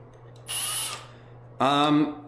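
A power drill fitted with a quarter-inch bit, used for drilling holes in drywall, runs in two short bursts: a higher whine, then a louder lower-pitched spin, close by.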